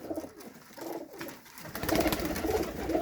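Pigeons coo repeatedly at close range, their soft throaty calls overlapping and growing louder toward the end.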